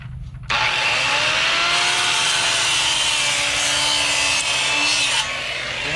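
Power saw cutting the tops off wooden fence boards, a loud continuous rasping buzz that starts abruptly, holds steady for several seconds and then eases slightly.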